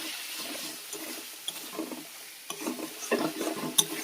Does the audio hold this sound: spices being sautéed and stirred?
yes